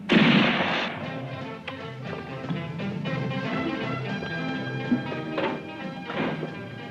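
Gunfire and heavy crashing from a 1967 superhero film, a loud blast at the start followed by a dense, continuous din of shots and impacts with music underneath, and sharper bursts near the end.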